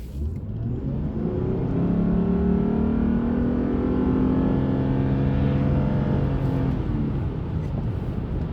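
A 2013 Lexus GS450h hybrid sedan accelerates hard, its engine note rising steadily in pitch over several seconds, loud and close, then easing off toward the end.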